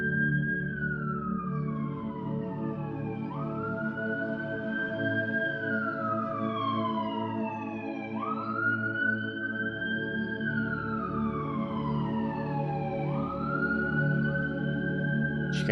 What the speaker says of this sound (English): Did you guys hear that siren?